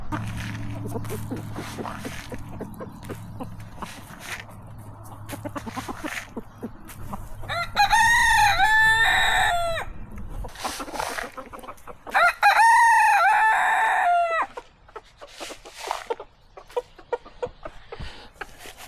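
Silkie roosters excited over cracked corn crow in two long, loud bouts with clucking between them, and scattered scratching and pecking noises at close range.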